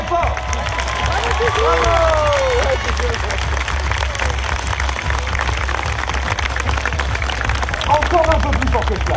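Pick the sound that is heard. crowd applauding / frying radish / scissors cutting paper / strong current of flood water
crowd applauding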